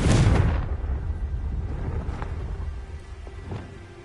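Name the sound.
Confringo blasting spell explosion in a video game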